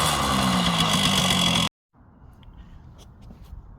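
Kawasaki KD80 motorcycle engine running after a kick start, with a loud, steady two-stroke buzz close by that cuts off abruptly, followed by quiet background noise and faint knocks.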